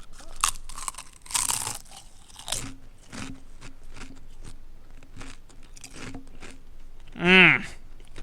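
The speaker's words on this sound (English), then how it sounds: "I apologize for the Dorito crunch that's about to come." Doritos chips crunch several times between bites as someone eats close to the microphone, loud crisp bursts mixed with intermittent talking.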